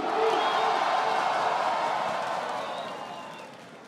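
Rap battle audience cheering and clapping in a dense, steady roar that peaks early and then gradually tapers off.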